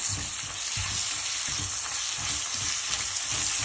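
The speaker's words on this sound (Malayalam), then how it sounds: "റൈസ് നന്നായിട്ട് വെള്ളമൊക്കെ ഡ്രെയിനാക്കിയിട്ട് നന്നായിട്ടൊന്ന് ഫ്രൈ ചെയ്യാം" Drained rice fries in ghee in a pan over a medium flame, giving a loud, continuous close sizzle with soft rhythmic stirring thumps underneath. No one speaks.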